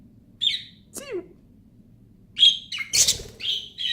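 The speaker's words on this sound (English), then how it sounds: "Two stupid dumb birds." Two pet birds chirp indoors in short bright bursts, with a few rising whistled calls and a louder flurry near the end, close to the listener over a low background hum.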